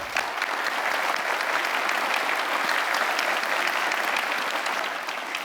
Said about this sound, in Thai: ผมขอเสียงปรบมือนะครับต้อนรับนะครับผู้เข้าแข่งขันทั้ง 24 คนสุดท้ายขึ้นบนเวทีด้วยครับ